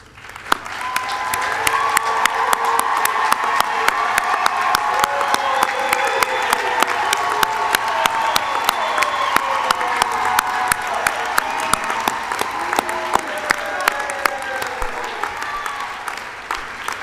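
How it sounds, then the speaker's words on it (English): A crowd at a law school hooding ceremony claps loudly and steadily for about sixteen seconds. The sound fills a large hall, and faint cheers or voices come through underneath. "I invite you to stand now so we can give you a round of applause."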